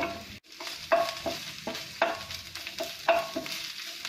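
Ginger paste and green chillies fry over low heat in a pan, giving a soft continuous sizzle. A spoon stirs and scrapes in a rhythmic, repeated pattern about once a second.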